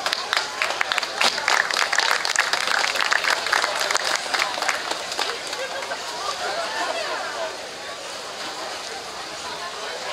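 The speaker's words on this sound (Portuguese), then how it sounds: "Uma salva de palmas aos juízes que estão chegando." A crowd at a classic car awards event applauds arriving judges, dense clapping up close that fades toward the end, with an announcer's voice over it.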